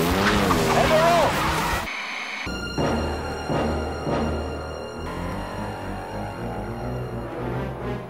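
Cartoon race cars speed around a racetrack in a turtle-themed race, engines droning and tires skidding in loud, continuous bursts, with an announcer's voice over the top at the start.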